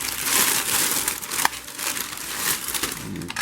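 Paper wrapping is crinkled and pulled off a part of a Bosch MUM4855 kitchen food processor, a steady close rustling and crumpling throughout with one sharper crackle midway.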